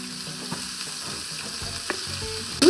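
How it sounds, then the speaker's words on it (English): Corn cake batter fries in lard in a hot skillet, a low, steady sizzle with faint pops and a few quiet scrapes, ending in a louder burst of clatter. "You want them to fry really well on one side before you go trying to flip them over."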